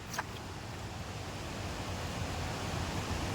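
Continuous broadband rushing of a fast-flowing, rain-swollen river at Kuttiyadi, Kerala, steady and fairly loud, with no voices over it.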